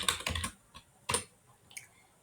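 Someone types on a computer keyboard in quick clustered keystrokes, a short burst, a pause, then a few more taps, close and fairly quiet.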